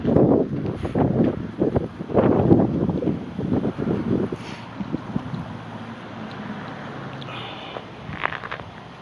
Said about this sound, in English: something of a windy day over here